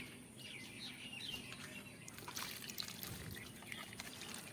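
Water trickling and pouring onto the soil at the base of a mango tree outdoors, a soft steady dribble while birds chirp in the background.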